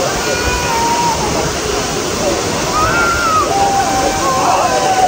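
A waterfall in Ghana, a loud constant rushing wash of falling water that fills the scene evenly, with faint voices or whistles mixed into the roar.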